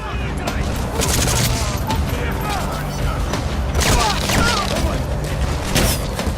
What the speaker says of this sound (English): Another nice shot there by Quiet.